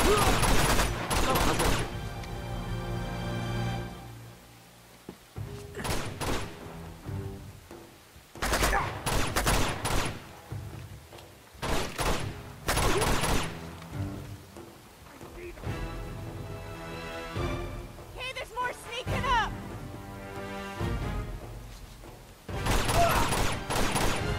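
Bursts of automatic gunfire from an Uncharted 2 video game firefight, loud volleys coming in repeated waves with short gaps between them.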